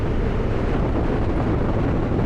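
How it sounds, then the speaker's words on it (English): Strong wind roars and buffets the microphone in a dense, constant low rumble, loud and close, with nothing else audible. "if you can even hear it because of how windy it is."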